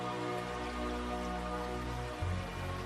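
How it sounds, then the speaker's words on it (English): Rain falls steadily across the open llanos grasslands as a soft, even patter with no gaps, distant and fairly quiet, and no voices or other sounds break in. "As the swollen rivers reach the grasslands, finally, the rains also arrive."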